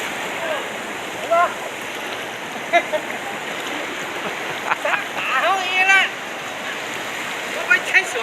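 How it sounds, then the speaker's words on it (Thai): Strong floodwater rushes in a steady, loud roar during Typhoon Sinlaku, with scattered voices calling over the torrent throughout. "น้ำแรงมากเลย"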